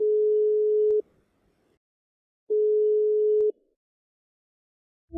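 Ringback call tone on an outgoing call to a job candidate for a virtual interview, two steady one-second beeps separated by silence, clean and moderately loud, with a third tone starting at the end.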